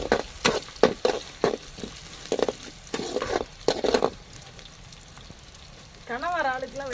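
Garlic fries in hot oil for a tiger prawn dish, giving a soft crackling sizzle under sharp clattering stirs and scrapes of a utensil against the pan, which fade to a quieter hiss near the end.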